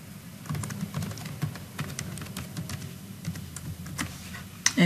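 A password typed on a computer keyboard: a steady stream of light, rapid key clicks up close, with a louder clatter at the very end and no one speaking.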